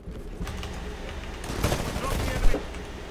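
Gunfire in a multiplayer video game, a bursty spread of rapid shots and mechanical clatter building toward a louder blast near the end, with voices faintly mixed in.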